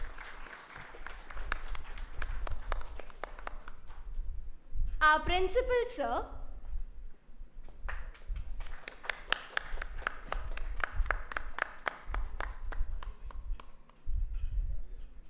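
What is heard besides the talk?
audience applause and clapping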